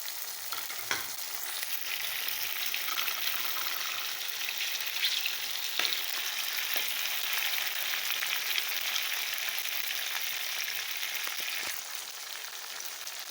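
Tomatoes added to a pan of curry frying for a Pindi-style salan, a steady close sizzle and crackle with occasional sharp pops and stirring scrapes.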